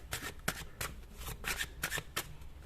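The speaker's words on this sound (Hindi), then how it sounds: "ये पर्सनल लाइफ के लिए कार्ड्स निकाल रही हूँ अभी मैं" Tarot cards being shuffled, a run of crisp riffling bursts in an irregular rhythm, close and soft with no talking.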